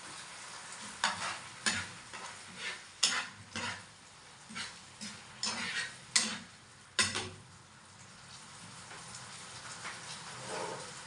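Mung beans sautéed with canned sardines and tomatoes in a pan, with a steady sizzle under repeated scraping stirs of a utensil against the pan at an irregular, roughly one-second rhythm.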